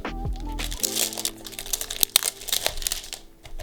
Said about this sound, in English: Now for the peel.